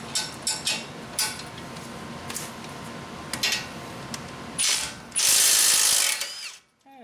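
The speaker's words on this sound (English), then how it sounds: "I'll put the impact on this side, see if the old 3/8 inch Milwaukee can get it off" Milwaukee 3/8 inch impact wrench working a strut nut on a Honda Civic front strut, with a few short rattling bursts followed by a longer sustained hammering run, close and fairly loud, ending abruptly.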